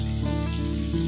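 Chopped onions frying in a pan give a continuous, even sizzle with fine crackle throughout, close and fairly loud, with no talking and a low steady hum beneath.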